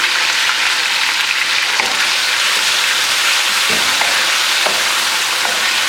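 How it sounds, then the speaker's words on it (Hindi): Small chicken pieces fry in a pan with garlic ginger paste, a loud continuous sizzle with occasional stirring scrapes and no talking. "इतना फ्राई कर लूँ कि चिकन अपना कलर चेंज कर ले।"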